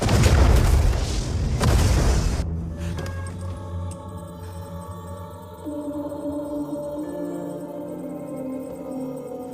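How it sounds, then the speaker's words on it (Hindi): A loud, deep missile explosion in an Indian action film roars and rumbles for a couple of seconds, then fades into a low lingering drone and tones. "30 सेकंड में धमाका हो जाएगा।"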